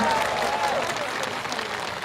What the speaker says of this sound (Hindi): जरा आखिरी तक राष्ट्रीय अध्यक्ष के सम्मान में तालियां बजना चाहिए, आखिरी तक जोरदारी के साथ, आखिरी तक।